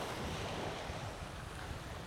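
Sea waves wash onto a beach at Datça, a continuous broadband surf roar mixed with wind buffeting the microphone, with no voices.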